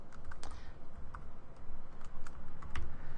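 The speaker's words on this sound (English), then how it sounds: "I'm just going to type in the variable name here" Typing a variable name on a computer keyboard: a quick, irregular run of close, crisp keystrokes with no talking.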